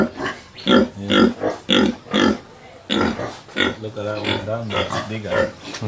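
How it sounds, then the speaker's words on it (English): Pigs grunt in a piggery at an agropastoral training centre, a series of loud, close rhythmic grunts in the first half, followed by people talking. "It's quite a big pig."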